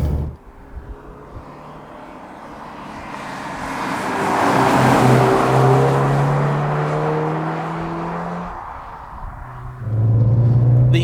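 A 1993 Porsche 968 Clubsport with a six-speed gearbox accelerates along a damp Scottish B road, its engine note rising through revs, easing off, then climbing again, with constant road rumble underneath.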